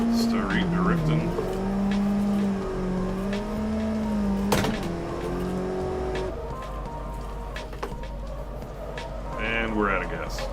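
Simulated car drifting in Assetto Corsa, taken in fourth gear: a steady engine drone with shifting pitch and tire squeal runs throughout, with a sharp burst near the middle, under ongoing talk.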